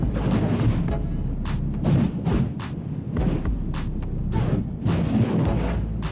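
Fuego volcano in Guatemala erupting, a loud continuous rumbling roar with a series of sharp booming bursts and cracks recurring throughout, heard alone without voices.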